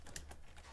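Typing on a computer keyboard into a Microsoft Word document, a few faint quick key clicks close to the microphone.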